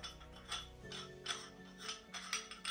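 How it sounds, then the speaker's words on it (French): Part of an Oduman Dream vape atomizer being unscrewed makes quiet, repeated ratchet-like clicks in a loose rhythm, heard close by over soft background music. "si on la tourne dans l'autre sens, on va dévisser en fait cette partie là."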